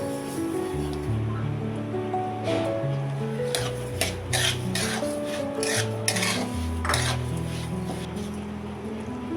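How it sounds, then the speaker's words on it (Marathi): Lapsi semolina and dry fruits roast in melted ghee while a spoon stirs and scrapes the pan, giving a continuous close rasping with some metallic clinks, and background music plays throughout. "एकदम ब्राऊन कलर होईपर्यंत आपल्याला भाजून घ्यायचंय याला"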